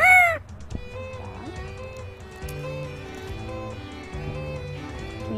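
African grey parrot imitating a rooster crowing, one short crow at the start followed by quieter squawks and faint background sounds.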